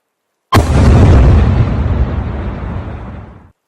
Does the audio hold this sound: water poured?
no